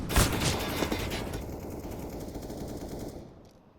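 Rapid automatic gunfire from a CS:GO match's first gun round, a loud continuous burst of shots and clatter that fades out near the end.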